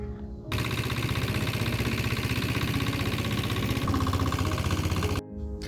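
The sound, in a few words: shallow-engine boat motor running on river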